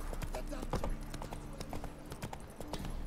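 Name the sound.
horse hooves clip-clopping in Witcher 3 video game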